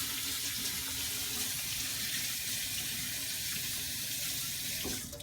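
Dyed lavender fabric trim for ballet costumes being rinsed under a running tap, a steady loud rush of water into a sink that continues unbroken and cuts off abruptly at the end, no voices.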